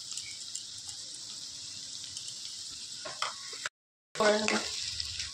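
A spoon stirs a thick bottle gourd curry with lentil dumplings in a pan over a faint sizzle, with a few scraping strokes, a brief cut to silence, then louder stirring.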